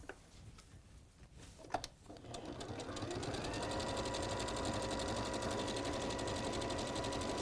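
A sewing machine stitches steadily through several layers of fabric, starting with a few soft clicks, then ramping up after about three seconds into a loud, continuous, even whir that stays close and alone.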